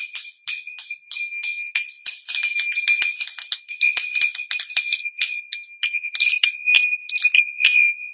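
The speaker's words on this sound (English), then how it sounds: "So unmuting the zills. Oh, I really like the ring." Saroyan Arabesque II finger cymbals ring out in a continuous bright, shimmering jingle, struck repeatedly in a quick rhythm with sustained metallic tones, close and clear with no talking.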